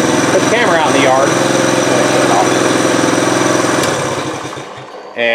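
A 1968 Honda Trail 90 motorcycle engine idles close and loud with a steady chugging rhythm, then fades and dips toward the end before a brief return. A voice talks over it.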